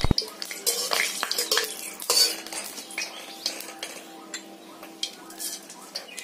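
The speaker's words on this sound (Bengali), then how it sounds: "তেলটা গরম হয়ে গেছে, ওর মধ্যে আমি দুটো শুকনো লঙ্কা কুচি দুটো তেজপাতা ছেড়ে দিচ্ছি।" Dried red chillies and bay leaves dropped into hot oil give a light crackle, while a spatula clinks and scrapes against the pan in irregular bursts, close and fairly quiet.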